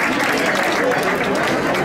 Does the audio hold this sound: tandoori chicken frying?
no